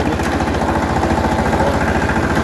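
A 28-share, 19-horsepower ACI power tiller engine ploughs a grassy field with a plough attachment, giving a loud, steady, close chugging drone with a rapid regular pulse throughout, no voices.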